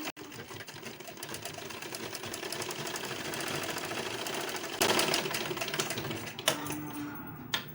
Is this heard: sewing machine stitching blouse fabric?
yes